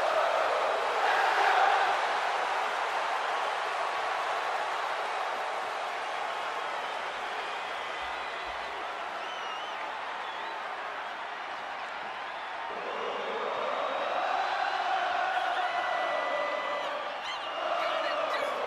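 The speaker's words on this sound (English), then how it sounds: "Listen to the energy in here for Sami Zayn." A wrestling arena crowd roars for Sami Zayn, a sustained dense wash of cheering that dips slightly mid-way and then swells again, heard from within the audience.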